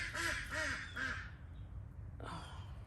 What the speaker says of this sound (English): ducks are so noisy some days